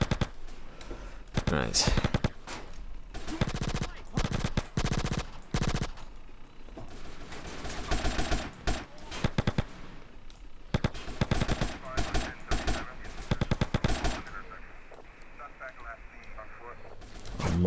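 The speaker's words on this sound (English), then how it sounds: "Oh, they've got assault rifles." Enemy assault rifles fire in GTA San Andreas, with loud, rapid automatic bursts crackling repeatedly and overlapping throughout. Someone talks briefly over the shooting.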